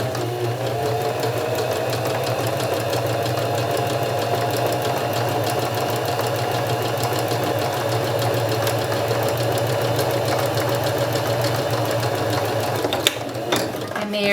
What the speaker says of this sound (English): I'll switch my machine to zigzag, and I'm going to zigzag right on the edge of the fabric.